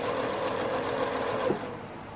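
Close and loud, a sewing machine stitches flying geese sashing on a scrappy beginner row quilt in a steady continuous whir, slowing briefly near the end.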